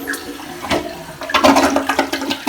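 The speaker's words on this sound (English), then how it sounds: "From here we are going to flush the toilet" A newly installed toilet on a hardwood floor is flushed, a loud close gush and swirl of water building and draining over a couple of seconds, with no voices.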